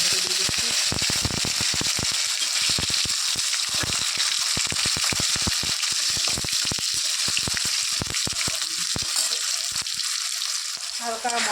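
Tomato drops into very hot oil already spiced with dried chilli, bay leaf, cinnamon, cardamom, a little sugar and cumin, giving a loud, steady sizzle with dense crackling and spitting that runs throughout.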